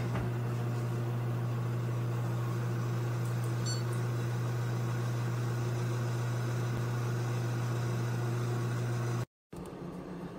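An espresso machine extracts an espresso shot for latte art with a steady, loud pump hum and a constant low drone, briefly cut off near the end.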